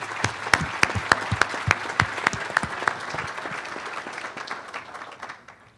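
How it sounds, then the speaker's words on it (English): Audience applause fills a room at an annual business association meeting, a steady rush of many hands clapping with a few sharp, close claps standing out, then thinning and fading away at the end. "Let's give everyone a round of applause."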